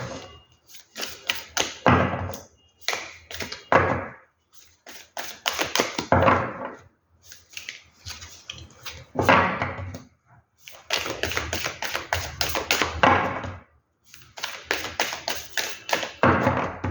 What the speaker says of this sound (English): Let's shuffle and then I'll choose the cards.